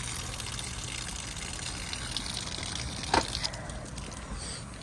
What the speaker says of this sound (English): and then you'll see the water coming out at the bottom of the vehicle.